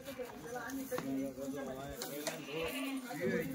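Kathiawadi goats bleating at a goat sale, several wavering calls repeating through the clip over busy crowd chatter and nearby voices.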